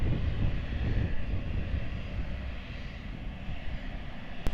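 An airliner departing Lisbon Airport, a steady, broad engine roar heard from a distance without speech, swelling slightly toward the end.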